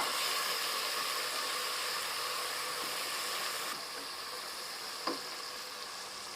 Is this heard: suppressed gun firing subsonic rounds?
no